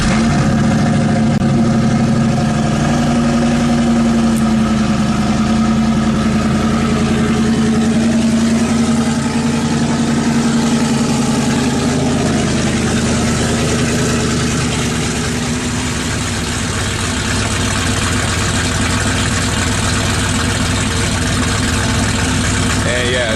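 A Ford Mustang V8 with an aftermarket Detroit rocker camshaft idles loudly and continuously up close with a choppy, lumpy drag-car rumble, a voice talking over it in places.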